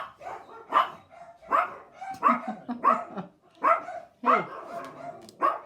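A dog barks in a quick series of about eight close, sharp barks with short gaps, and a person briefly calls out.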